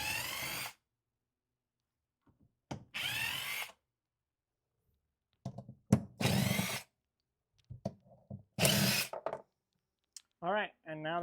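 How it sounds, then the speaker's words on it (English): A power drill fitted with a 10mm socket backs bolts out of the frunk on a Tesla Model 3/Y. It gives four short, loud whirring bursts separated by silences, with a brief voice near the end. "a drill with a 10mm socket wrench so that you can slowly just pull these off"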